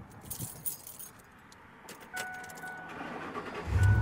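Keys jangle up close, then a car engine cranks and catches, settling into a rising idle rumble, with no one talking.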